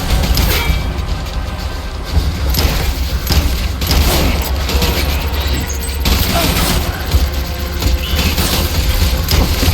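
Death Stranding gunfire rattles in a dense, loud, continuous fusillade over a low rumbling bed, with scattered booms and rapid shots layered throughout and a voice barely audible underneath.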